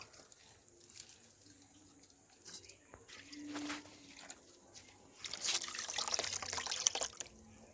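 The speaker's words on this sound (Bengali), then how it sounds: "এটা আরও একবার জল দিয়ে ধুয়ে নেব" Water is poured and swirled in a bowl to rinse settled homemade potato starch, soft splashing and trickling that grows louder toward the end, with quiet clinks and no talking.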